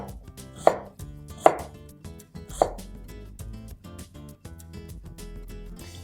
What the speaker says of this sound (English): Slice it so that the pieces are a little bit bigger.